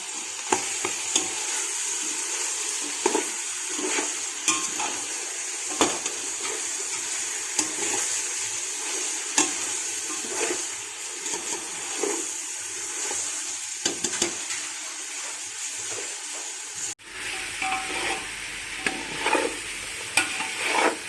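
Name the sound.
chicken frying in a pan until water evaporates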